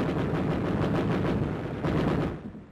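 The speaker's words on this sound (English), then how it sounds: "On top of the ridge, the troops dig in and open fire" Dense, continuous gunfire from troops dug in on a ridge during the WWII Battle of Okinawa, a loud, rough, grainy wash of shots as in old newsreel combat footage.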